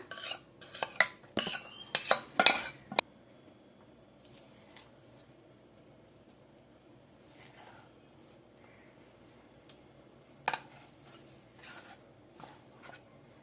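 Ground rice batter being mixed in a large vessel, a burst of clattering utensil and vessel knocks at the start, then quiet with a few faint scrapes and one more clink.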